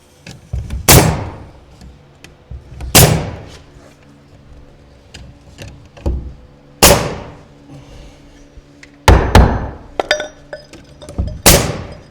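A hammer drives nails into wood blocks fitted between the wall studs of a small cabin under construction. Five sharp, loud blows fall a couple of seconds apart, with faint rattles and knocks between them.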